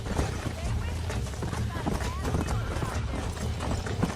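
A horse galloping in the Red Dead Redemption video game, with steady rapid hoofbeats running throughout under a dense, loud mix of game sound and background noise.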